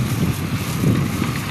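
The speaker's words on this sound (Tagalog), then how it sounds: "Mahangin." Strong wind gusts buffet an outdoor microphone, a dense low roar that swells and fades briefly with no talking.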